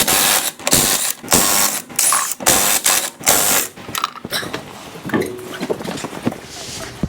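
A wrench works loose a tire on a 2007-13 Toyota Tundra. It gives a series of sharp, loud mechanical bursts with short gaps between them, then settles into softer, irregular rattling and clanking close by.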